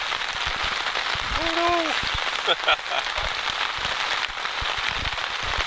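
Rain patters steadily on a tent while camping in Algonquin, a dense continuous hiss of drops close by, with people talking over it and a brief exclamation.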